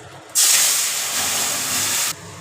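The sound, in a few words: lentils sizzling in hot oil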